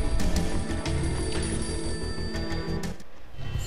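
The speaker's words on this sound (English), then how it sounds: "A beaten up phone in the entrance hall was ringing." A battered old telephone rings steadily in an entrance hall in the game Max Payne, its bell rattling in a rapid, even pulse. It sounds loud and fills the space alone, with no voices.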